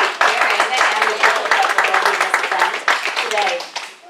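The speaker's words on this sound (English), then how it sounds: "a big round of applause and a big thank you to Karen" Audience applause fills a Silicon Valley leadership event, dense clapping that rises then fades out over a few seconds, with a voice speaking over it.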